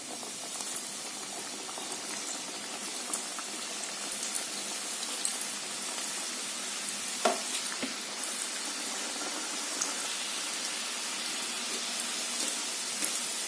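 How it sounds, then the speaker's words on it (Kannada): Karigadabu, sweet filled dumplings, dropped into hot oil one at a time and frying, giving a steady, close bubbling hiss with faint crackles and one brief clink midway. "ಎಣ್ಣೆಯಲ್ಲಿ ಇವನ್ನ ಕರಿಯೋಣ"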